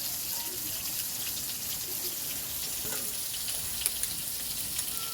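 Soybean chunks and potatoes fry with turmeric powder in a pan, giving a steady, even sizzle that continues without a break under faint crackles.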